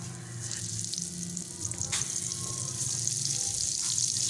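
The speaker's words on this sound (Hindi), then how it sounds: "जो रह गए हैं वो भी डाल के फ्राई कर लेती हूँ" Eggplant pieces fry in hot oil with a steady, close sizzle and crackle, the bubbling growing slightly louder and denser over the few seconds.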